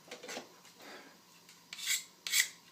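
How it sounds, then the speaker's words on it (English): A saw blade rasps against a magnesium fire-starter block, shaving it in several close, scraping strokes that grow sharper and louder toward the end. "you can use it to shave and spark"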